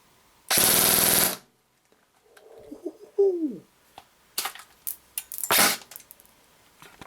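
A Classic Army PX9 airsoft pistol fires through a chronograph, a few sharp close snaps with a loud burst early on, amid quiet handling noises and no talk.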